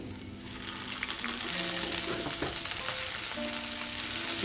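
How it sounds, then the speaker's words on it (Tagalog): Onion, garlic and rinsed shrimp paste sautéing in a pan for tofu Bicol express, a soft continuous sizzle with a few stirring clinks, fairly quiet and close, no speech. "At ngayon ay igisa naman ang sibuyas, ang bawang, at isunod natin ang bagoong."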